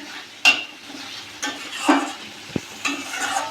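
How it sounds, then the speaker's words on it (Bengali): Spice paste made with ground black cumin fries in a pan, a faint sizzle under a few sharp spatula scrapes and clinks against the metal, spaced about a second apart, close by with no talking. "এবার মশলাটা ভালো করে কষিয়ে নেব"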